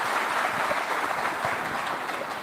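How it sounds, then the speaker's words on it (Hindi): Audience applause at an Amar Ujala Samwad Uttarakhand event with cricketer Harbhajan Singh, a steady, dense patter of many hands clapping that holds at an even level throughout. "लोग ताली बजा रहे हैं"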